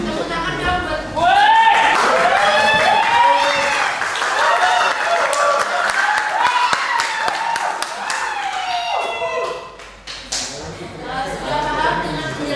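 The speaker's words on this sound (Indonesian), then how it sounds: "Tepuk tangan dong buat" Audience applause at a public speaking session, a loud, dense patter of clapping that holds steady for about nine seconds and then fades, with voices cheering and speaking over it.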